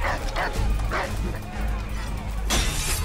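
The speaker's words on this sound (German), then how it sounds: "Und ein Hund." A dog in the Boston streets of Assassin's Creed 3 barks in a few short yips over background game sound and low music, with another louder burst near the end.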